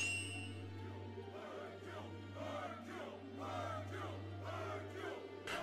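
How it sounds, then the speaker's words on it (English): A crowd cheers in the Dragon Ball Xenoverse video game after Majin Buu's defeat, a faint, distant swell of many voices with rising and falling shouts over a steady low hum. "Look at all the people cheer."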